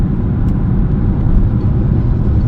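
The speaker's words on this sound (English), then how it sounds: "it's certainly busy on the motorway" Steady, dense road rumble of busy motorway traffic, including heavy military transporter trucks, heard from inside a 2023 Citroën Berlingo, a continuous loud low drone without a break.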